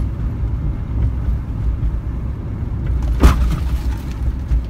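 A 1991 Honda Civic engine rumbles low and steady from inside the car while driving and slowing down, with a broad road and wind roar. A brief louder swell comes near the middle and no one speaks.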